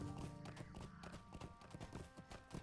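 A horse's hooves clip-clop in a steady, close trotting rhythm in the video game Lord of the Rings Online, with no other sound layered over them.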